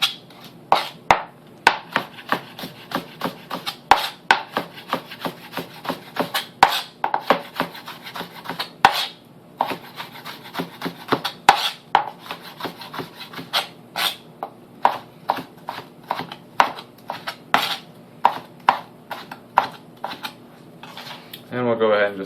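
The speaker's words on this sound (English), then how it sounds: "So we're going to go ahead and julienne these guys up." A knife julienning cucumbers on a cutting board, with a long run of quick, sharp chopping taps in an uneven rhythm, close and crisp, ending with a brief scraping rustle.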